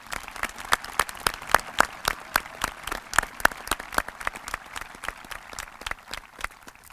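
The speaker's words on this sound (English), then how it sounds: "let's give our talented student performers one more round of applause" Audience applause for student performers at a high school graduation ceremony, sparse and distinct hand claps in an irregular rhythm from a small scattered crowd, fairly faint and echoing in a large space.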